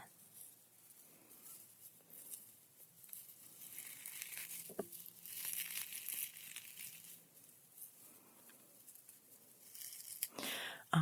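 Synthetic mesh tea bags for a fit-style tea crinkle and rustle softly in handling during a quiet late-night tea tasting, faint scattered rustles building to a louder crackle near the end, with no speech.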